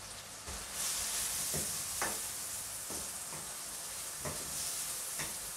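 Curry frying over low heat in a pan while being stirred, a steady soft sizzle running throughout with occasional scrapes and knocks of the utensil against the pan, close and continuous with no talk.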